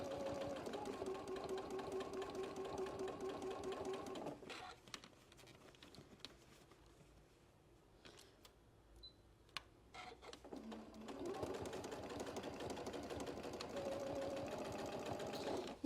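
Sewing machine stitching a bucket hat, a close steady rapid whir that pauses midway for a quieter stretch with small clicks and then starts again at full speed.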